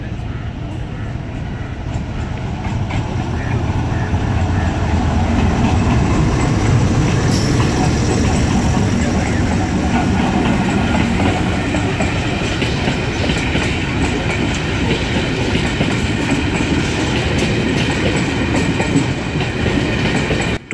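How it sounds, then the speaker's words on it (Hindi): A slow freight train led by two GU40 diesel locomotives rolls steadily past near Karachi's Malir rail bridge, a continuous close rumble with wheel clickety-clack sustained for about twenty seconds and no one talking. "इस वक्त मेरे सामने से आ रही थी एक फ्रेट ट्रेन जिसकी लीड पर दो GU40 लोकोमोटिव्स लगे हुए थे"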